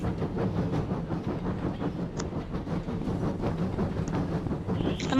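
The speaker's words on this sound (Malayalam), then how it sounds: "എടാ ട്രെയിൻ ആരും ഓടിക്കുന്നില്ല." A train in a car simulator video game rolls past with a continuous low rumble and faint rhythmic clatter, steady and moderately quiet throughout, with no voices.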